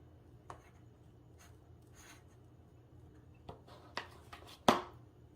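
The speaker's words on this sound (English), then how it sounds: "we're going to take our butter spread here with the chives" Chive butter being spread on a slice of good-quality bread, soft scraping and rubbing strokes from a knife, quiet and close, ending with one sharper tap or scrape.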